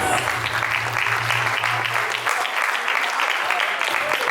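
Audience applause at a streaming-series trailer launch event, steady dense clapping throughout with a sustained low tone underneath, loud and close.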